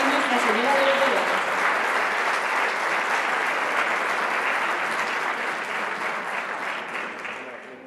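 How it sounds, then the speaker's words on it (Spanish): Sustained applause from a Lent concert audience in Socuéllamos for a brotherhood's cornet and drum band, loud and dense throughout, a voice briefly audible at the start, fading slightly toward the end. "Un muy fuerte aplauso para la banda de cornetas y tambores de la Cofradía de Zeomo y Nuestra Señora de los Dolores"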